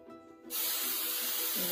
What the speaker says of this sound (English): then spray